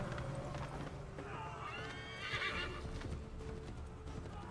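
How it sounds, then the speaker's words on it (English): A horse in the Assassin's Creed 3 video game whinnies loudly while its hooves clop along at a steady gallop, with the game's background sound underneath. "Hop back on your horse."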